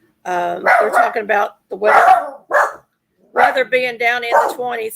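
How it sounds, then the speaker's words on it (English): Pet dogs indoors bark repeatedly at someone outside, the loud, rough barks overlapping and mixing with a person talking close by throughout. "So y'all excuse the barking in the background."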